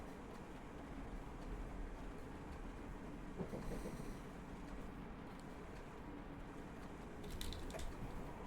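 An electric train in Train Simulator Classic, running from London Euston toward Watford Junction, rumbles and rattles steadily at moderate volume, with a couple of brighter squeaks and clicks along the way.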